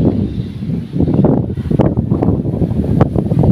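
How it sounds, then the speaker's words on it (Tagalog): Strong wind buffets the microphone near a bridge on the road to the airport from Dipolog, a loud, gusty, rumbling rush that surges and eases with no clear voice. "Makalakas ang hangin dito."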